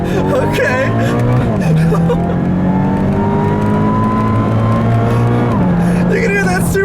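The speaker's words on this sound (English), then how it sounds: "You can hear that supercharger whine." Supercharged Scion FR-S with an Innovate supercharger, driven in manual mode up a canyon road: a loud engine drone with a high whine climbing alongside it, briefly dipping at a gear change and then rising again.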